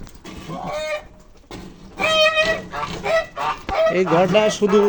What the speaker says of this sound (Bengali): এই যে হাঁস বাইর করতেছি, রাজা-হাঁস।